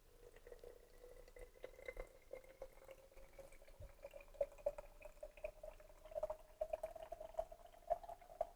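Water trickles into tie dye bottles pre-filled with dye mix, a faint, steady filling sound with a rising tone and occasional small drips and clicks, heard up close in a quiet room.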